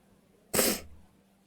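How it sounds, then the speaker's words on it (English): A single sharp sneeze bursts out close by, a short loud blast that fades quickly into quiet. "I hate sneezing."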